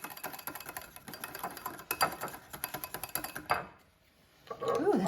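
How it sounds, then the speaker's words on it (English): Buttermilk herb mayo whisked in a bowl, a fast run of clinking, scraping strokes against the bowl that stops briefly near the end before stirring resumes. "Whisk that in."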